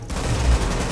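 Burst of gunfire in the video game The Division, underground, a dense loud rattle of shots filling the whole second with a booming low end, no speech.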